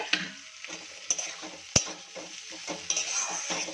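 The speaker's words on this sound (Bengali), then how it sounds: "এবার এর মধ্যে কিন্তু আমি আলুগুলো দিয়ে দিচ্ছি, দিয়ে আবার একটু কষিয়ে নেব" Potatoes sautéing in spice paste and oil over medium-high flame, a continuous close sizzle broken by irregular scraping and knocking strokes of a spatula stirring through the pan, with no voices.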